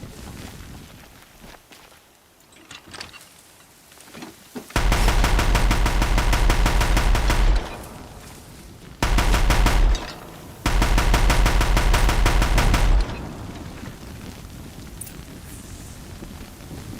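Bursts from the Dreadbringer machine gun in Horizon Zero Dawn hammer out in loud, sustained rapid-fire stretches, two long runs broken by a short one, with quieter game ambience and movement between them.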